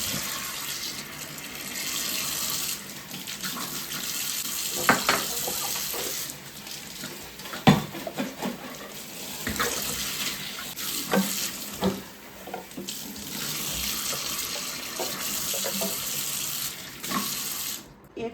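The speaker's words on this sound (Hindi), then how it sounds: "तो अभी इन दोनों बोतल को ना धो के रख देती हूँ।" Tap water runs and splashes into a kitchen sink as two bottles are rinsed, a steady hiss with clunks and swishing as the bottles are handled.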